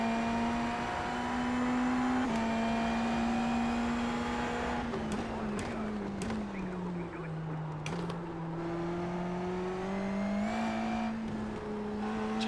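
Indy NXT open-wheel race car engine in the iRacing simulator at the St. Petersburg street circuit, a loud steady high-pitched drone that rises and dips with throttle, with brief gear-shift breaks and some talk underneath.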